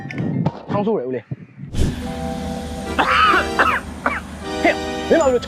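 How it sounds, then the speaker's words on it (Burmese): A person coughs and clears their throat in short, harsh bursts, mixed with nearby voices talking over and between the coughs. "ဟဲ့မင်းဘာလို့ချောင်းဆိုးနေရလဲကွာ"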